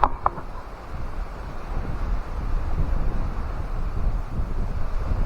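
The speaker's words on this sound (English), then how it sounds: "Another windy day." Steady wind buffets the microphone outdoors at a mountain lake campsite in the morning, a continuous low rumbling roar with gusts swelling toward the end, no voices.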